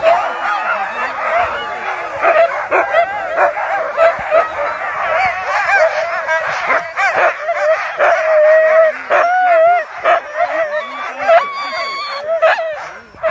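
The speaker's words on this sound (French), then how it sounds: "on aime les chiens de traîneau" Several sled dogs at the start of a race in Chasseradès, France bark, yip and whine together in an excited, continuous chorus, close by and fairly loud, with some voices mixed in.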